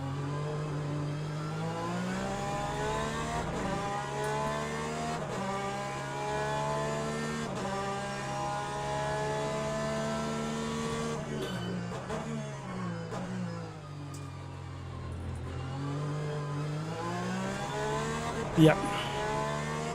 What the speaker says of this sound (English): I'm in the Porsche GT at the moment